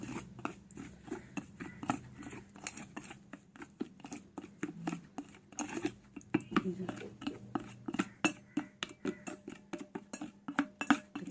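Homemade coffee face pack paste being mixed with rose water in a small bowl, giving repeated soft clinks and scrapes of a spoon against the dish in an irregular rhythm, close by and moderately quiet.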